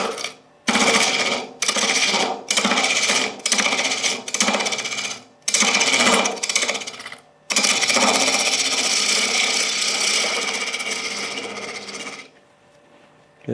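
A carbide cutter scrapes the inside of a wooden bowl spinning on a lathe in loud, close rasping bursts separated by short pauses, followed by one long continuous cut that fades to near silence.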